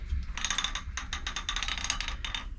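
A long arm quilting machine being unlocked, heard as several bursts of close mechanical ratcheting and gear clicks separated by short pauses.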